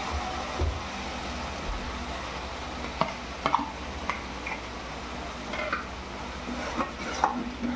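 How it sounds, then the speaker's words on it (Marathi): Tomato paste sizzling in a pan of frying onions for chicken biryani, a continuous close hiss with irregular sharp clicks and scrapes of a spoon stirring against the pan. "आता हे टोमॅटोचा पेस्ट मी टाकते।"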